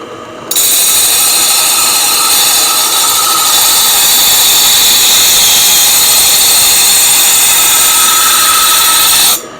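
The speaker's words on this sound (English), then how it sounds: "I'm just rolling the chisel. It's not even warm." A carving chisel being sharpened on a powered sharpening wheel gives a loud, steady grinding whir. It starts abruptly, holds evenly for about nine seconds, then cuts off.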